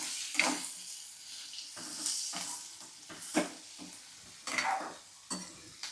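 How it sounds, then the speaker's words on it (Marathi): Okra (bhindi) stirred and sautéed in oil in a pan over raised heat, with coriander leaves just added, gives a soft steady sizzle broken by irregular scraping stirs at close range. "भेंडीला तेल सुटेपर्यंत चांगलं परतून घ्यायचं आहे."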